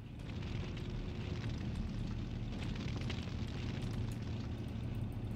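Katyusha rocket artillery in the Sudden Strike war game sends up a continuous, dense rumble of explosions and crackling bursts, steady and loud throughout with no voices.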